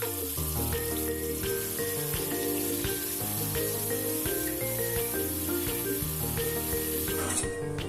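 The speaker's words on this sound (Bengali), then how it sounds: "তেলের মধ্যে দিয়ে দেব রেডি করে রাখা আমার এই বাটনাটা" Spice paste of ground cashews and nuts sizzles steadily in hot mustard oil tempered with black cumin, a continuous close hiss and crackle with no voices, for a hilsa fish curry.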